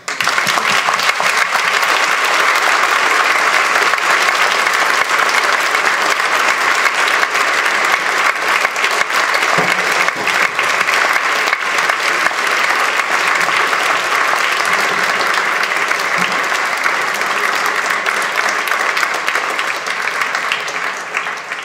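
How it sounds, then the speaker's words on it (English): Lecture audience breaking into loud, sustained applause, a thick, even roar of many hands that holds for over twenty seconds before easing slightly at the close. "Applause, please"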